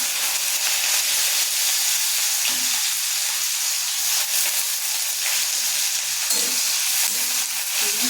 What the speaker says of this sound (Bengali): এবার পেঁয়াজটা কেটে রেখেছি ছোট ছোট করে দিয়ে দিচ্ছি